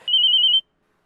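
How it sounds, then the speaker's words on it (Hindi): A single telephone ring tone, a steady high electronic trill lasting about half a second, clear and close, as a call is placed, then silence. "अपने जिगरी यार खिलौने को खुशखबरी देता हूँ फोन लगा के।"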